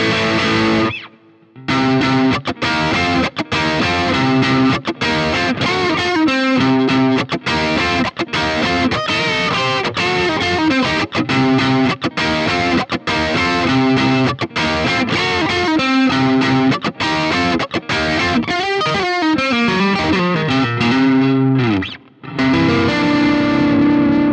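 Electric guitar played through a BOSS GT-1000 processor on a Marshall-style amp model, heavily distorted, in a loud, steady stretch of chords and riffs with no talk and only a brief gap near the start.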